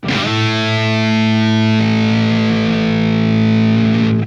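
A heavily distorted guitar holds a sustained chord that drops into a thick, lower octave-doubled tone through a HyperTune octaver effect, loud and continuous for a few seconds.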